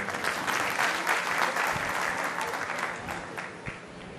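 Audience at a Gujarati community social gathering breaks into sustained, dense applause, steady and full throughout with a slight taper near the end, with no speech over it.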